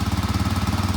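A 2023 Kawasaki KLX300R dirt bike with an aftermarket full exhaust runs steadily, giving a fast, even, rumbling engine pulse that is fairly loud and close, with no talking.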